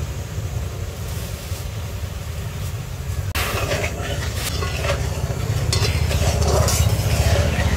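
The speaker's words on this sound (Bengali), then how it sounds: "লেবুর রস আর চিনিটা ফুটিয়ে নিয়েছি।" Lemon juice and sugar heating in a pan, a steady low bubbling hiss that grows busier and louder after a sudden clatter midway, with faint scraping as the mixture cooks.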